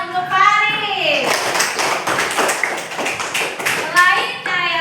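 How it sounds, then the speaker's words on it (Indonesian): Schoolchildren clap for a classmate during a primary-school lesson on light, giving a burst of quick, close hand claps between short stretches of talking. "Beri tepuk tangan untuk Faris."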